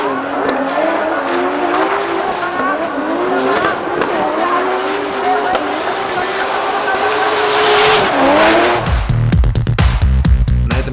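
Drift cars at a D1 drifting championship event in Tokyo scream past with loud, sustained engine roar and squealing, skidding tires, wavering pitch throughout, ending in a burst of choppy revving; announcers blare over loudspeakers beneath the noise.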